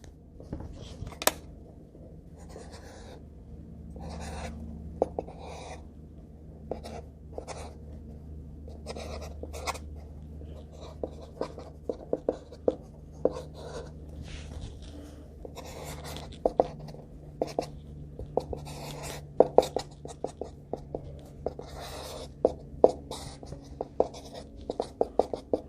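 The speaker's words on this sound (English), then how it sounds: "Now just draw random lines." A pencil scratches random lines across paper in quick, uneven strokes, close and fairly quiet, with brief pauses between bursts of drawing.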